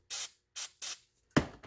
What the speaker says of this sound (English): let me spray some carb cleaner on it